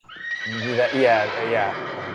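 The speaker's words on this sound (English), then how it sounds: "I'll put in the horses every time we say a name." A horse neighing sound effect rings out as one long, quavering whinny rising and falling over about two seconds, loud and close, dropped into a comedy podcast discussion of Young Frankenstein.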